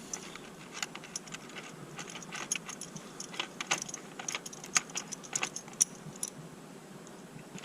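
An eye bolt is screwed in and locked with a nut on a swivel-seat steering mod for a Colorado XTS inflatable pontoon, producing faint, irregular metallic clicks and clinks close by against a quiet background.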